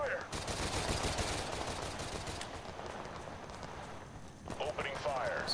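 Gunfire rattles in the Total Conflict war game, rapid overlapping shots and bursts packed densely and loud, briefly thinning before resuming, with voices speaking over the shooting.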